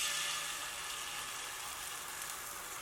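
Beaten egg mixed with a little starch hits a thinly oiled pan over low heat, giving a steady, close, hissing sizzle that fades slightly after the first moment.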